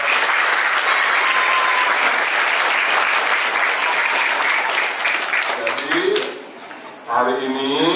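A crowd of Islamic boarding-school students and army guests applauds at an Indonesian Army anniversary gathering, a loud, dense wash of clapping that fades near the end as voices and a speaker take over.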